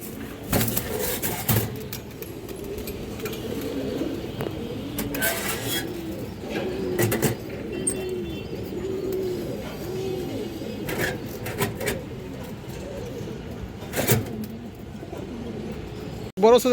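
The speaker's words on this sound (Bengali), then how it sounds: "এক পেয়ার মুসলদম কবুতর আছে" A pair of Muslodom pigeons coo in soft, repeated low rounds close by, a steady murmur of calls beneath someone talking over them.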